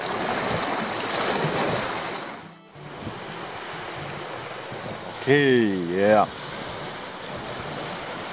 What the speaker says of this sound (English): It's a bit windy, 8 to 9 meters per second. On the lake, so we have the waves.